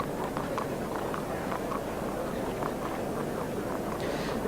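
Racehorse hooves clip-clop steadily in a loud, continuous stream before the Champion Chase at Cheltenham, with a wash of outdoor noise and crowd bustle behind them.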